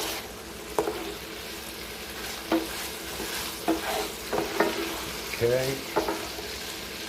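Beef stir-frying with green onion in a very hot pan at 425 degrees, a steady sizzle broken by scraping utensil strokes, close by, with a brief spoken word.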